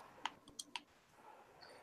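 A few sharp computer keyboard clicks tap out close by in an irregular run during an online class meeting, then the line fades to quiet room tone.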